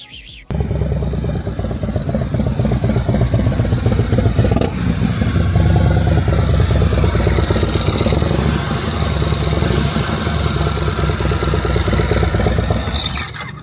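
Supercharged Harley-Davidson motorcycle engine running close by, a loud continuous rumble with mechanical clatter and a rising and falling supercharger whine on top, heard alone for over ten seconds.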